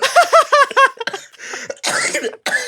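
A run of rough, throaty bursts, partly laughing and partly coughing, followed by a few harsher coughs close to the listener.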